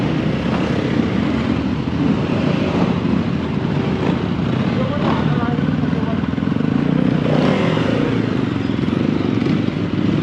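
A group of about a dozen off-road enduro dirt bikes rides together, engines producing a continuous loud droning roar close by, steady throughout without breaks.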